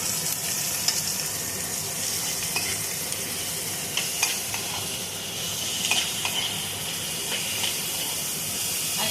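Onion paste frying in hot oil for a homemade biryani gives a steady, close sizzle and hiss, with the odd scrape and stir knocking through the bubbling.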